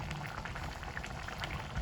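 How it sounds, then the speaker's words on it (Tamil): Mushroom gravy with curry leaves bubbling in a pot on the stove, a steady close crackle of small popping bubbles that runs without pause. "நல்லா கொதித்து வரட்டும்,"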